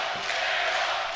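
Arena crowd at a CEO 2018 New Japan Pro-Wrestling tag match, a dense, loud, continuous roar of cheering voices rallying behind one wrestler.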